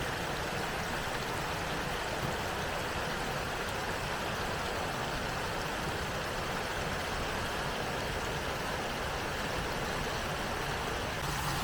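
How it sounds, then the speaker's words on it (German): A mill stream babbles steadily below a former watermill, a continuous broadband rush of flowing water holding even and unbroken throughout at a moderate distance. "dort unten plätschert noch der Mühlbach"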